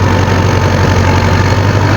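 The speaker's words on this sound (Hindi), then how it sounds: "1500 आरपीएम पर ही ट्रैक्टर चल रहा है" Sonalika Tiger tractor engine running steadily at 1500 rpm, a loud, close, continuous low drone with a constant even rumble and no talk.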